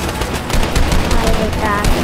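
Rapid bursts of gunfire in Fortnite, a dense loud fusillade of repeated shots with a rough pulsing rhythm, close and continuous across the short stretch.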